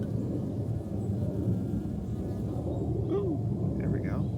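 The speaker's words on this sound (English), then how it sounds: "and there's a bee." Around Scotch bonnet pepper plants in a raised garden bed, a bee hums low and steady beneath outdoor wind noise, with faint distant bird calls near the end.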